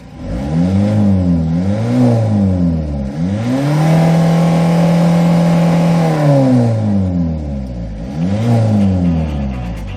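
A 2000 Hyundai Porter diesel truck engine with manual transmission revs up and down repeatedly, pitch sweeping higher then falling back in smooth cycles, loud and close, with one longer sustained rev.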